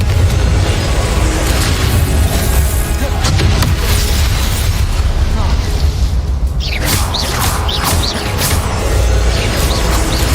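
A Confringo explosive spell in Hogwarts Legacy lands among repeated heavy booms and crashing bursts, loud and nearly continuous, with a cluster of sharp cracks near the end.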